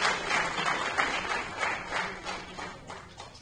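Applause from an audience at a minister's address to a doctors' gathering in Delhi, a dense continuous patter of clapping that stays steady, then slowly thins and fades.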